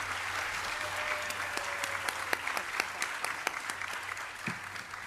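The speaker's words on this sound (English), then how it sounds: "Let us give another huge round of applause for the gurus and musicians" Audience applause for the gurus and musicians after a classical Indian dance recital, a steady, fairly distant patter of many hands with a few sharper claps standing out, continuing throughout.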